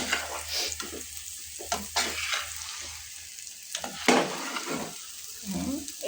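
Taro curry with tamarind sizzles in a frying pan while a utensil stirs and scrapes it in repeated close strokes over a steady frying hiss, with occasional soft talk in the background.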